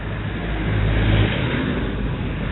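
Cars flow steadily along a busy road at about nine in the morning, a continuous engine rumble that swells briefly as one vehicle passes nearby, with no talking.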